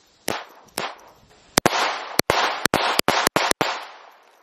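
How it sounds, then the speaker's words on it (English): Pistol shots fired at a small target crack out sharply, about a dozen close, loud reports in an uneven rhythm, some spaced and some in quick succession, each trailing off into a brief echo. "We'll put a few rounds on that smaller target."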